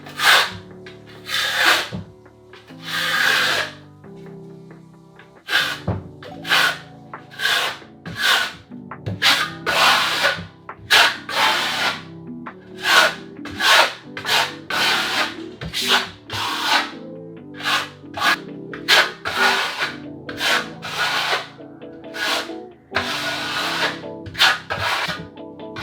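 A trowel spreads lime-based marble Venetian plaster on a wall in classical-style strokes, giving a series of close, rhythmic scraping swipes separated by brief pauses and carrying on steadily without speech.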